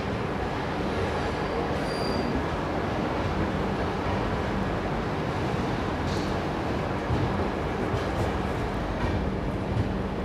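Ranthambhore Express pulling out of Ujjain Junction, a continuous rolling rumble of wheels and carriages heard steadily from on board, with no voices.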